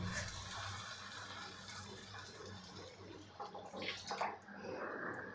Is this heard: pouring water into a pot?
yes